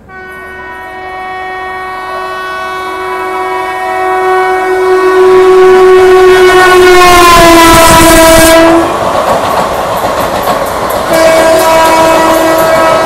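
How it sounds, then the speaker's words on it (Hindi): Passing Indian train overtaking on the adjacent railway track, its long loud horn sounding near and steady before sliding lower in pitch as it passes, then continuing under the roar of the moving train. "हमें पड़ रहा है ओवरटेक किसी ट्रेन से"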